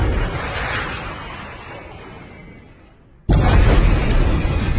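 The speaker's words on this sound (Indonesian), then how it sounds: "Dan bom pun dijatuhkan." A bomb blast in an action film about CIA special forces, beginning with a fading rumble that drops to near silence before a sudden loud, broadband explosion hits and roars on.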